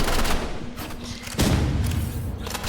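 Bursts of rapid gunfire crackle in a Roblox shooter game, with a heavier thumping volley midway, loud and dense throughout.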